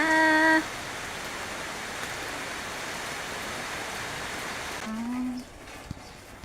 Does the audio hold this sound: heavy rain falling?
yes